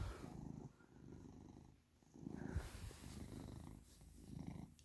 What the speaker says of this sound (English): You're just gonna lay there and purr, huh?